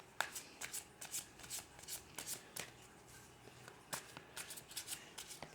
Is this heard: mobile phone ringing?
no